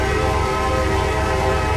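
A train rolls past in the simulator game Trainz 2022 on Midwestern rails: a loud, close, steady rumble with sustained horn-like tones throughout.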